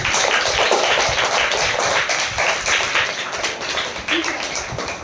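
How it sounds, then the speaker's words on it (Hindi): Students in a primary school classroom clap for two classmates, a dense, steady patter of many hands applauding together at fairly close range, easing off slightly toward the end. "हम लोग इन दोनों लोग के लिए तालियां बजा दीजिए।"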